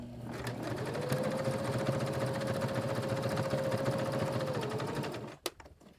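A sewing machine top stitches around a fabric edge, humming in a fast, even, close whir for several seconds before it stops with a few brief clicks and knocks.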